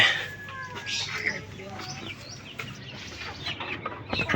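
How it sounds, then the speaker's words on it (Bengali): A hen clucks repeatedly in short, rising calls while laying an egg, fairly close, over a busy background of other birds and faint voices. "ওই যে একটা ডিম পারছে"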